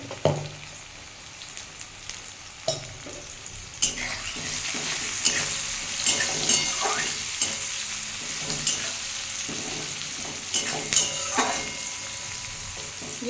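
Onions fry in a pan with turmeric, a constant sizzling hiss broken by regular sharp scrapes and knocks of a spatula stirring, close and moderately loud, no voices.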